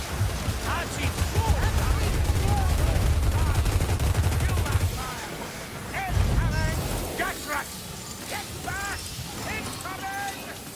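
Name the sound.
Skaven ratling gunner firing in video game Vermintide 2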